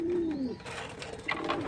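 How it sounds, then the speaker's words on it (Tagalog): A pigeon in a loft gives a brief low coo close by, followed by faint chirps and shuffling, all within a couple of seconds. "Yung kalapati natin na si Boy Bulutong."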